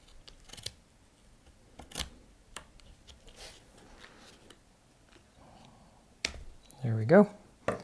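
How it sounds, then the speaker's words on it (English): Scissors cut away excess canvas while a canvas print is being wrapped. A few sparse, crisp snips and handling clicks sound close in a quiet room, ending with a louder burst of rustling. "on this side, cut the extra material."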